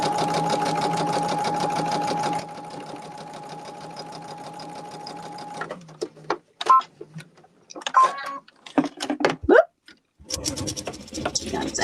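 A sewing machine runs steadily for a couple of seconds stitching a quilt block seam, then stops, followed by scattered handling clicks, taps and fabric rustles.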